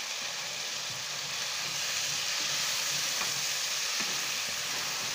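Green beans fry in oil over a garlic tempering, giving a constant sizzle at moderate level with soft stirring scrapes and no talk.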